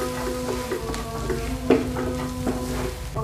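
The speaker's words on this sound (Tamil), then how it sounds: "நல்லா வதக்கிடலாம்." Onions sauté in a pan with chili, Kashmiri chili, coriander and cumin powders, making a steady close sizzle with intermittent scraping stirs and one louder clack.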